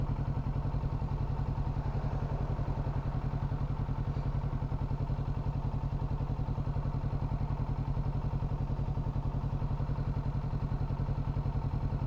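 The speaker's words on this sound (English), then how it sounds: "There's a motorcycle." A motorcycle engine, heard from aboard a Kawasaki Ninja 650, runs with a steady low rhythmic thrum and rapid regular pulsing that stays even and continuous throughout, with no clear pass-by swell.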